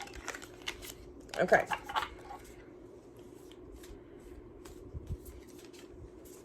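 Tarot cards being shuffled by hand, a quick burst of riffling and slapping card sounds followed by softer handling, with a brief spoken word in between.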